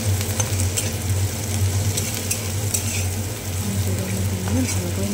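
Chopped garlic, ginger and onion sizzle steadily in hot oil as they are stirred in a pan for egg tadka, a continuous close frying hiss with faint scraping, under a low steady hum.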